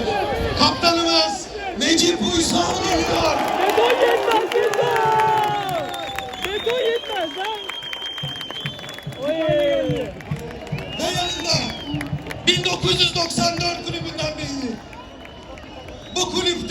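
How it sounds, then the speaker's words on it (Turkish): A stadium crowd at a Beşiktaş Turkish Cup championship celebration applauds and cheers for the team's coach, a dense, sustained roar of clapping and shouting under a loud voice carrying over the noise. "Serdar Topraktepe hocamız büyük bir alkış ona"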